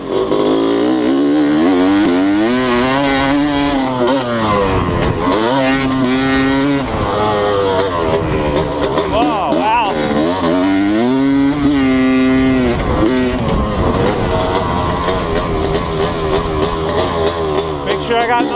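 A Honda CR250 motorcycle is ridden hard around a track, its engine loud and close throughout, revving up and down in repeated sweeping surges as the rider shifts and accelerates.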